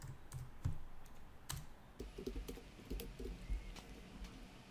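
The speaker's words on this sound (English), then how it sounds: "we would type it like this" Fingers type code on a computer keyboard at close range, a quick irregular run of light key clicks with a few heavier taps, alone and fairly quiet.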